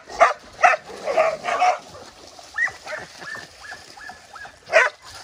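A golden doodle dog gives several sharp nearby barks and yips in short bursts, with softer whimpering sounds between them.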